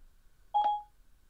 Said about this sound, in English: Hey Siri, call Percival.